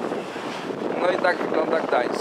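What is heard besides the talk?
boat sailing on the Motława river in Gdańsk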